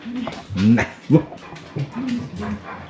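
Dogs whimper and yip in short, high whining bursts close by, mixed with a person talking.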